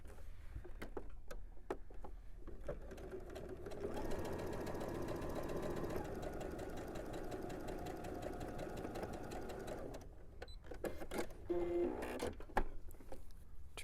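A domestic sewing machine stitches quilt block pieces in a steady, fast mechanical whir lasting several seconds, with quieter handling clicks and fabric rustles before and after.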